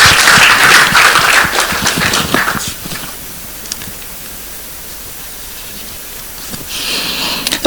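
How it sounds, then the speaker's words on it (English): A panel discussion audience claps in a burst of applause that fades out after a few seconds, followed by quiet room tone and a brief return of clapping at the end. "round of applause"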